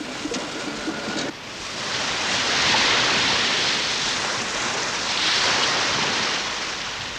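Atlantic waves off Cape Cornwall, a broad, steady wash of surf rising and falling in loud swells, mixed with wind noise and heard alone.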